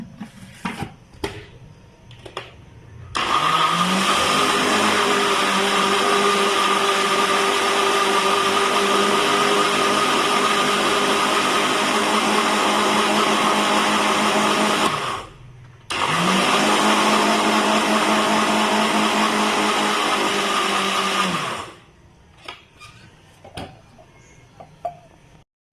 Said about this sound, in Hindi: पुदीना, धनिया और हरी मिर्च डाल दिए मैंने ब्लेंडर में, तो अभी मैं इसको ब्लेंड कर लूँगी